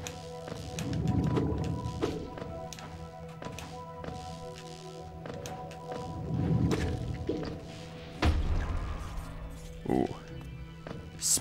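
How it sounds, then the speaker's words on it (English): Muffled thuds and booms from explosions in the video game Hollow Knight come in a few separate bursts, fairly faint, with a person talking between them. "Explosions."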